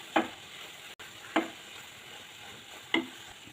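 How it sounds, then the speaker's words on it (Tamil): Banana stem stir-fry with coconut being stirred in a pan, three sharp scraping strokes spaced about a second apart over a steady low sizzle, close and fairly quiet, no voices. "ஆட் பண்ணி நல்லா மிக்ஸ் பண்ணி விட்டுக்கோங்க. ஒரு 2 நிமிஷம் மிக்ஸ் பண்ணி விட்டுட்டு ஸ்டவ் ஆஃப் பண்ணிவிடுங்க."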